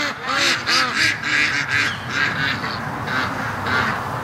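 Near a lake, a group of ducks, with Muscovy ducks among them, calls in repeated honking quacks, several birds sounding in quick rhythmic bursts close by before settling into softer, scattered calls.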